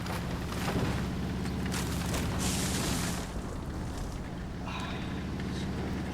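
A World of Tanks tank engine drones in a steady low rumble with broadband roar and hiss, rising briefly in the middle and then settling, no talking.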